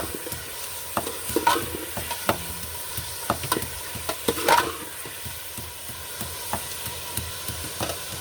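Chicken fries in a pan over a steady sizzling hiss, with frequent scraping and knocking from stirring at an uneven rhythm, close and moderately loud, and no talking.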